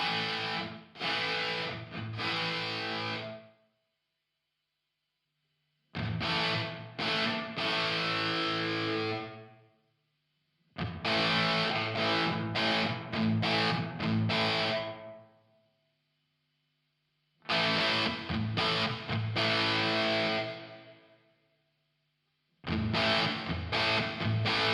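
Electric guitar played through a Two Notes Torpedo Studio with room reverb set fully wet, heard in four distorted strummed phrases of several seconds each separated by silent gaps, with a short reverb tail after each.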